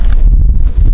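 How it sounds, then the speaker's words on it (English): Strong wind blowing outdoors at a campsite beside a parked 4Runner, a loud low rumbling buffet against the microphone that continues without a break, with no talking. "Oh, it's windy."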